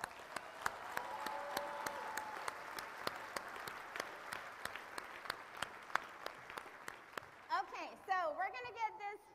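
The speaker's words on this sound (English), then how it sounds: "Can we give him a huge round of applause?" An audience breaks into sustained applause, with bright rapid claps and occasional sharp individual hand strikes throughout, before a voice cuts in near the end.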